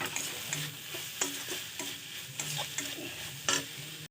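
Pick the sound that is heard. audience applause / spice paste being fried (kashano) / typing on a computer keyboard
spice paste being fried (kashano)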